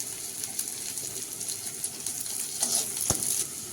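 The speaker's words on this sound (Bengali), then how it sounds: "কড়াইতে দিয়ে দিয়েছি পেঁয়াজ কুচি আর এবার রসুন থেঁতোটা দিয়ে দেবো" Chopped onion and crushed garlic sizzle and fry in a hot wok, a steady soft crackle with occasional stirring scrapes and one sharp clink near the end, no voices.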